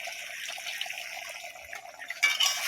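Water pours from close by into a pot of nearly cooked biryani meat, a soft, steady trickle and splash that swells into a brief gush at the end, quiet and with no talking.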